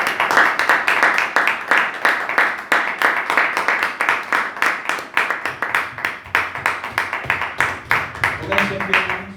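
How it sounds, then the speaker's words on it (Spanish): Church congregation clapping in steady rhythmic unison, dense fast regular claps filling the space for several seconds, with a low hum and faint voices toward the end. "Dar un aplauso al Señor."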